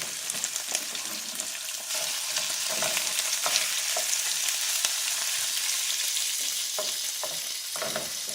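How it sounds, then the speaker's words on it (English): Cubed beef browning in a pot for a one-pot beef pilau, a steady close sizzle that swells partway through, with a few scraping stirs, no voices. "Now I'm going to brown up my beef."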